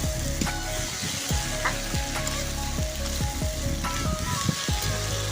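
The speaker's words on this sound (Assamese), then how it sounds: "অমিতা আলুখিনি দি লৈছোঁ, দি পেলাই ভালদৰে লৰাই ল'ব" Green papaya and potato pieces stir-fry in hot oil, giving a loud, continuous crackling sizzle broken by repeated stirring scrapes, close and without speech.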